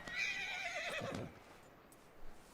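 A single loud, close horse whinny from Red Dead Redemption II, a bright quavering neigh that tapers off after about a second, leaving quiet game ambience.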